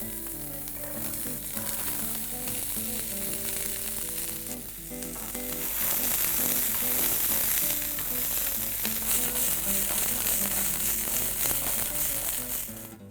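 Green peas for a samosa filling hit a hot pan with oil and sizzle loudly and steadily, a dense frying hiss that holds throughout with faint stirring.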